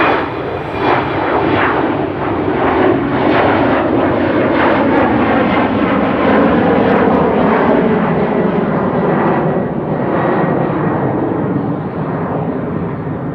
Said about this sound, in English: Embraer 190 to Luxembourg.